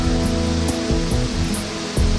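A large natural waterfall in Costa Rica roars steadily at close range, a dense unbroken wash of falling water with a few brief louder surges and no voices.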